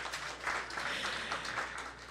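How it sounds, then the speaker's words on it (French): An audience at a university science outreach event applauds a prize-winning student speaker, a short, steady wash of clapping with a few sharper individual claps, heard alone without talk. "s'il vous plaît, applaudissez-le, applaudissez-le."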